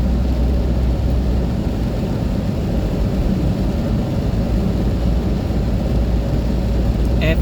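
Heavy rain pouring steadily during a thunderstorm in Barbados, a dense continuous roar with deep low rumble underneath, loud and close throughout with no clear separate thunderclap standing out.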